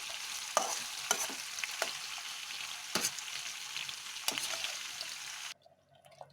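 Steady sizzling of chicken kofta and lotus stem frying in hot oil, with occasional sharp crackles and stirring clicks, close up, ending abruptly into quiet.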